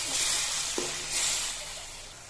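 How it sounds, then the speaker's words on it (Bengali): Chicken pieces sizzle and fry in a spice masala while being stirred in a pan, with a steady hiss and one soft scrape of the spoon partway through. "এখন এই অংশগুলো ভালো করে মশলার মধ্যে কষিয়ে নিচ্ছি।"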